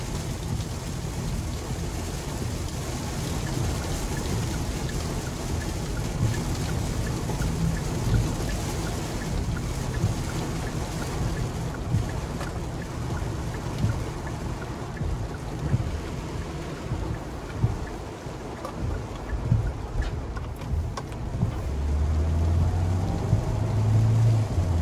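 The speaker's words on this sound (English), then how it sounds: "I'm glad we get to see how this does in the rain." Rain falls on a 2021 Kia Sorento Hybrid S during a drive, a dense, continuous patter and hiss on the car body over a low road rumble, steady and fairly loud throughout.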